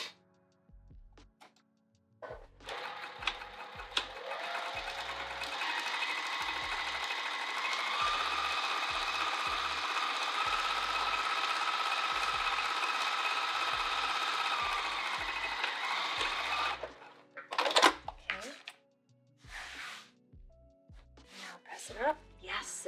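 A sewing machine runs steadily stitching across a fabric cover, a continuous whirring hum lasting about twelve seconds between brief starts and stops, with handling noises around it.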